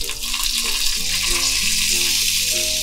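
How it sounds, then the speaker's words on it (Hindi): Mustard seeds and curry leaves sizzle in hot oil on a tawa for a tempering, a steady, close, loud frying hiss that runs throughout with no voices. "कुछ इस तरह से हमने दोनों तरफ करी पत्ता और राई का तड़का लगा दिया।"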